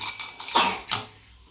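A steel mixer grinder jar is lifted out and handled, giving a few quick metallic clinks and clatters close by, the strongest knock in the middle before the sound fades.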